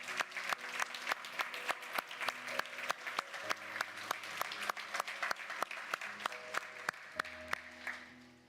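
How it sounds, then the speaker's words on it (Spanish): A church congregation claps through a service, the applause moderately distant and somewhat sparse, with sharp individual claps over a sustained musical tone underneath. "Dale un aplauso a Dios."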